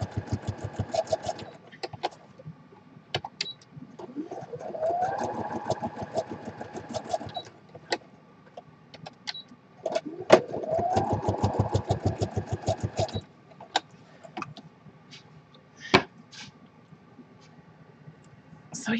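A sewing machine stitches in rapid mechanical bursts, starting, running for several seconds, pausing and starting again, with a steady motor hum under the needle clatter.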